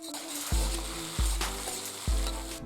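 Onions and chicken for a Hyderabadi street-food chicken crispy gravy sizzle loudly in a hot pan, with three heavy stirring scrapes and tosses in an uneven rhythm over a steady frying hiss.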